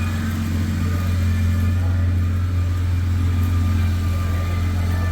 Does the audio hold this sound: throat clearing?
no